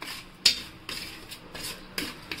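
A spoon clinks and scrapes against a bowl while oil is stirred into a mango pickle spice mix: sharp metallic taps about every half second to second, close and clear with no talking.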